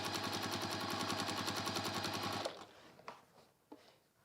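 A sewing machine stitches a bag seam in a fast, even mechanical rattle for a couple of seconds, then stops, leaving a few soft clicks and handling sounds.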